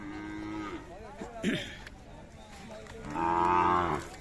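Two long, low moos from a Khillar cow at a livestock fair, one at the start and a louder one near the end, with a brief rustle between them and no talking.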